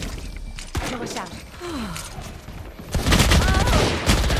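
Gunfire from the video game Valorant: rapid bursts of shots with sharp repeated cracks, growing denser and louder toward the end, heard under someone talking.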